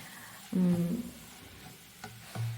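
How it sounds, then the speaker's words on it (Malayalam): Banana stem thoran is stirred in a pan, with a couple of short scraping, tossing bursts separated by quiet gaps and a faint sizzle beneath, close and brief. "അപ്പോൾ അതെ നന്നായിട്ട് മിക്സ് ചെയ്തെടുക്കുക"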